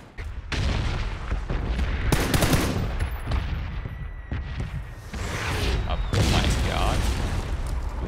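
A bomb explodes in a battle royale shooter game amid rapid gunfire: several loud booming blasts and bursts of shots crack close by, with a player's voice talking over the chaotic combat.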